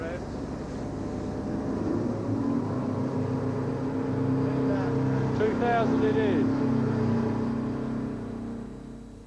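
A lifeboat engine rises and holds a louder, higher rumble at 2,000 revs, with a voice speaking briefly over the engine noise.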